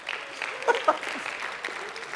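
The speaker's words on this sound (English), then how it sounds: "Give him a round of applause" Lecture-hall applause from an audience rewarding a student contestant, a steady patter of clapping under faint voices and crowd murmur.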